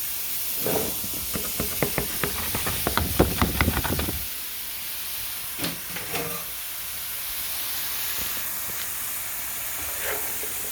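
Chopped onions hitting a hot skillet for shepherd's pie, with a burst of rapid clatter and knocks followed by a steady, bright hiss of sizzling that continues alone at moderate volume.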